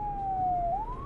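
A single distant siren wails in a smooth falling-then-rising sweep, steady and moderately loud, with no voices over it.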